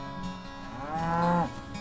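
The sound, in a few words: Black Hereford cattle mooing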